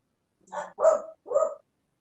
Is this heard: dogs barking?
yes